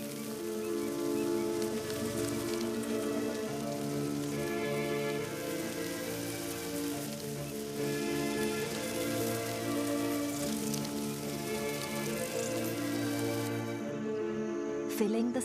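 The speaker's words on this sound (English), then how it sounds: "The first drops of rain trigger a remarkable event." Early rain falls on the African plains of Liuwa as a steady, even patter of drops on the ground, continuous throughout over a tonal background.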